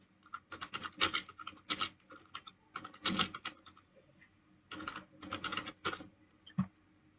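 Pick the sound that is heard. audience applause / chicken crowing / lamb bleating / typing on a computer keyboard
typing on a computer keyboard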